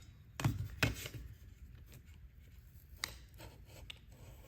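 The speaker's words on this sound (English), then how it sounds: "if it doesn't cut through the first time, then you are going to just cut again with the ruler" A sharp scalpel drawn along a ruler through card on a cutting mat, giving two quick scraping cuts followed by fainter scratchy strokes, close and quiet.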